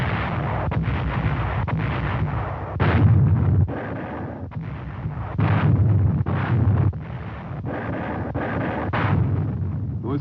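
A massed World War II artillery barrage of some 2,000 guns before the Rhine crossing rumbles continuously for several seconds, with heavy low booms swelling and fading in repeated waves over a steady roar and no voices.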